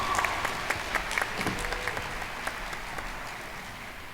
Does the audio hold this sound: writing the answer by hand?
no